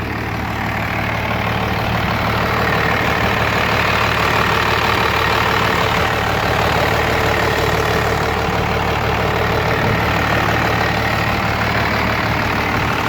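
A Cummins 12-valve diesel engine idles steadily close by, a loud, even rumble with a faint rhythmic knock running through it the whole time.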